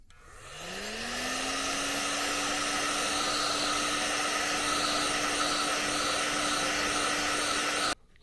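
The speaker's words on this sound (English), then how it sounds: "You'll just turn your heat gun on." A heat gun spins up and then blows with a steady, loud, close whoosh and hum while shrinking tubing during a winch install on a 2022 Polaris RZR Pro XP, cutting off abruptly near the end.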